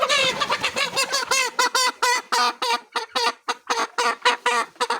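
A single chicken held for a smallpox wing-injection vaccination clucks and squawks loudly and close, in a rapid, insistent series of sharp, agitated calls over about five seconds.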